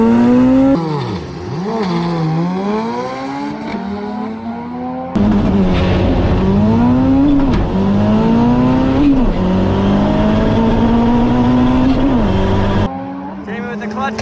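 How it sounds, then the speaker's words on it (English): Cars launch and accelerate hard in a drag race, engines screaming through rising gear pulls, one run after another, loud and close with brief gaps between the runs. "They're ripping. This is a drag race."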